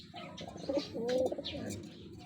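Pigeons coo softly in a loft with breeders and a hen close to laying, low throaty warbles repeating over about two seconds, a faint voice speaking in the background.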